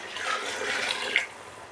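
Water pours steadily into a bowl, a close, continuous splashing gush with a slight bubbling texture, no talking.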